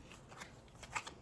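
Tarot cards being shuffled for a reading, a brief soft riffle of quick flutters and slaps, quiet and close, with no talk.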